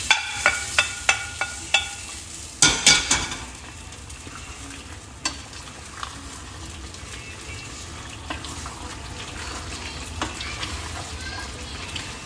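Kadhai chicken with onion and capsicum sizzling in a pan while being stirred, with sharp clanks of a spoon against the wok early on and a steady frying hiss underneath.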